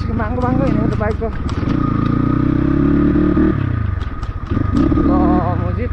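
A motorcycle ride on a rough mountain road near Khangsar, the engine droning steadily up close while a rider talks throughout, with rattling clatter from the bike.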